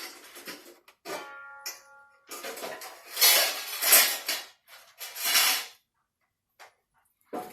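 A bowl is taken out in a kitchen while dishes clatter: a run of close, bright clinks and knocks of crockery, several louder clattering bursts in the middle, then scattered faint taps with pauses between.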